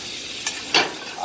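Beef steak frying in butter and olive oil, a steady close sizzle and hiss with two brief louder spits, and no voices.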